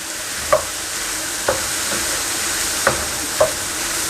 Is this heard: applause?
no